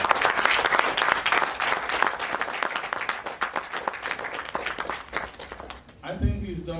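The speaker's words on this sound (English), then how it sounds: "let's give Charles a round of applause" Audience applause fills an entrepreneur conference hall, steady dense clapping for about six seconds before it fades and a voice begins speaking.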